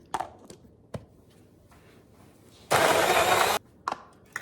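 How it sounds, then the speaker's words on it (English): A blender runs in one loud, steady burst of nearly a second, whirring through a thick chocolate peanut butter shake with ice, with a few soft clicks and knocks before and after. "So we're gonna go ahead and put that all together and give it a good blend."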